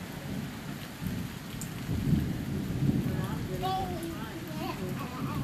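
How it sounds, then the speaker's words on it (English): Late-summer thunderstorm in Kenmore, Washington, with steady rain and low rumbling thunder rolling on all around, while people talk nearby over the storm. "this storm is, like, all around us"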